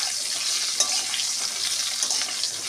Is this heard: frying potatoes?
yes